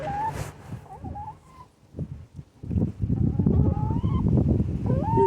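Backyard chickens cluck and call in short, scattered bursts, close by, while gusts of wind rumble underneath on a blustery day.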